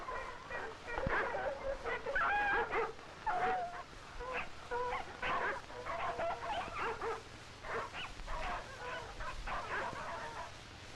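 Sled dogs hauling a sled through snow in Alaska bark and yip repeatedly in bursts of overlapping calls, some near and some further off, with a low rumbling background.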